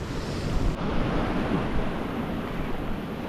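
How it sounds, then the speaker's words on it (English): Ocean swell surging onto shore rocks at a New Zealand rock-fishing spot, a loud continuous rushing wash of surf with wind noise buffeting the microphone throughout. "oh dear, here comes a wave"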